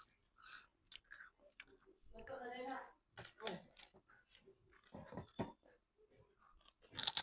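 Crunchy homemade kipping snack being chewed up close, with repeated crisp bites and crunching in bursts, between which a person talks softly.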